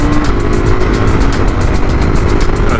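KTM Duke 990 motorcycle being ridden, its engine roaring loud and steady throughout over heavy wind buffeting, with no pauses in the drone.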